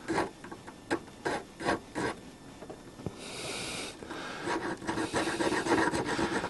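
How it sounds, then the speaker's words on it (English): A needle file rasps along a burred metal edge in a workshop, first in short separate strokes, then in a steadier run of rubbing, quiet and close. "needle file out the drawer, and I'll work my way around with this. Just take that burr off"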